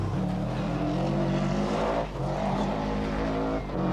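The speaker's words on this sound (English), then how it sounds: "The rally leader approaches the McClafferty clan's property at high speed" A rally car at the 1992 Donegal International Rally comes in at high speed, its engine roaring loud and close as it revs hard through two quick gear changes or lifts, with no talking.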